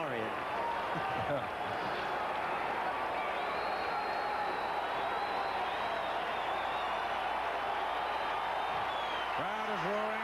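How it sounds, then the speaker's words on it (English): Baseball stadium crowd roaring steadily at a 1978 American League playoff game between the Yankees and Royals in Kansas City, a dense continuous wash of cheering and hooting that holds level throughout, with a voice briefly rising near the end. "Crowd is roaring"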